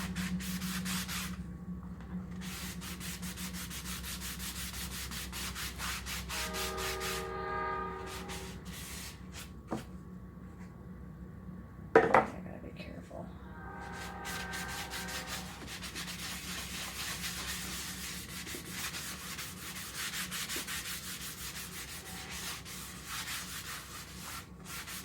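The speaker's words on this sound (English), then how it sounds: "And then you just go ahead and rub it. You're going to give it a good buffing." A towel rubs and buffs a painted wooden house frame, giving a steady soft swishing friction that continues throughout at close range, with a single brief knock near the middle.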